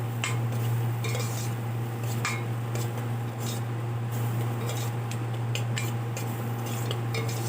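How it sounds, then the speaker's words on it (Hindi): A spoon stirring vegetable paste for bottle gourd and pea sabji in a kadhai, repeated light metallic scrapes and clinks in an irregular rhythm over a low steady hum. "हिला हिलाकर पकाते रहिए चम्मच की सहायता से"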